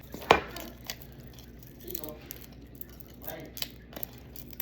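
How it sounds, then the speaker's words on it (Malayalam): A knife chopping chicken into small pieces for hot and sour chicken soup, with one sharp close chop followed by a few softer, sparse cuts over quiet kitchen background. "പിന്നെ ബാക്കി ചെറിയതായിട്ട് അരിഞ്ഞ് സൂപ്പിന് വേണ്ടി."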